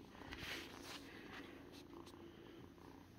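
A cat sitting on someone's lap purrs softly and steadily, a faint close rumble that continues throughout with a little rustling.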